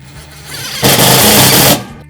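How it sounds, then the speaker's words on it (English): An impact driver sends a Tek screw into a metal fence post for a Vogue wall install in one loud, close, rapid hammering burst lasting about a second, with quieter buzzing before and after. "with your impact driver and the Tek screws provided, we go to the middle of the post and we start assembling the post."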